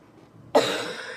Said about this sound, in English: this is the portion of the video where the uncontrollable coughing starts, because my cough drop wore off